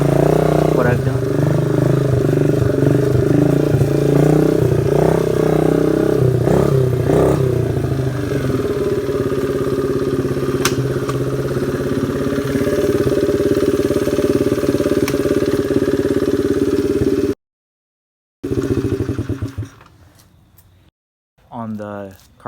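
A 2005 Honda CRF50 four-stroke motorcycle engine with a cleaned carburetor and removed baffle revs in several bursts, then idles steadily up close before cutting out. A few late blips follow, and a voice is heard over it.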